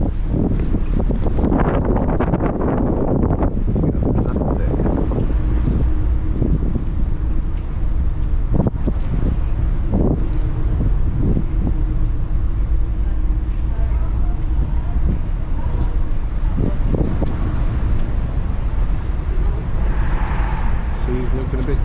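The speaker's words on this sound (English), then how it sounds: "Man, it's windy out here." Strong wind buffets the microphone on a ferry deck at sea, a constant roar broken by heavy gusts and thumps, with a person talking over it.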